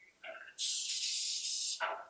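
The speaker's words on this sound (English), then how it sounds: "When you spray, make sure you shake this one and a light spray in the bottom" Cooking spray hisses from a shaken can into the bottom of a baking pan for macaroni and cheese, one steady, close burst of about a second after a brief rattle, then fading.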